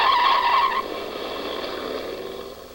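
A 1950s car's tires screech loudly to a stop, the sharp squeal lasting under a second before fading into a lingering engine and road hum.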